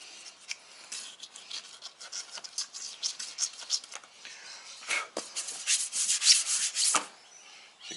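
A hand rubs overspray off black plastic car trim on an AE92 Toyota Corolla, making close, dry scratchy strokes in irregular bursts that grow louder and faster toward the end.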